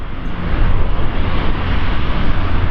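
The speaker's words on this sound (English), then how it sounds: "I can hear winding up those big propellers." An Airbus A400M's big propellers winding up on the runway at the Farnborough Airshow, a loud, steady, broad roar of engine noise with no talk over it.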